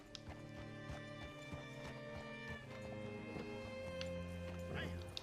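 Horse hooves clip-clop at a walk in Red Dead Redemption 2 in the town of Rhodes, a steady close rhythm of hoofbeats over low music, with a brief whinny near the end.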